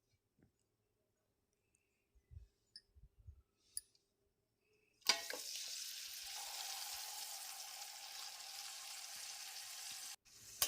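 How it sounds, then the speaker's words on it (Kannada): Eggs frying in hot oil for a dhaba-style egg gravy: a few quiet clicks and knocks, then a sudden loud sizzle that starts midway and holds steady at close range before cutting off. "ಎಣ್ಣೆಯಲ್ಲಿ ಮೊಟ್ಟೆನ ಫ್ರೈ ಮಾಡ್ಕೋಬೇಕು."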